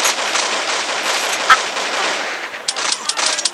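Rapid gunfire in the shooter game Crisis Action: a dense burst of sharp shots at the start, one louder report in the middle, then a fresh flurry of shots near the end, loud and close.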